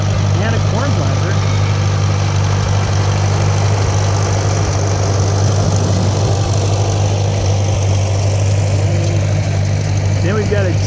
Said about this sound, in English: We got an old tractor rolling through first.